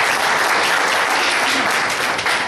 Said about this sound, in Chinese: 拍手，我们上帝。